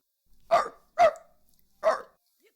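A human voice imitates a dog barking, giving three loud, separate bark-like yelps at an uneven pace with silence between them.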